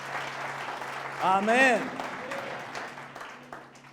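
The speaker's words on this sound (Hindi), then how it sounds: "ताली बजाना भूल गए आप?" A church congregation claps at moderate volume, with a voice calling out loudly over the applause partway through.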